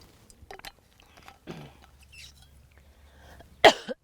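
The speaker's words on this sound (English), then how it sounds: "I always end up getting a cough when I'm outside." A single harsh cough bursts out loud and close near the end, after quiet breathing and faint movement during an outdoor yoga session in a park.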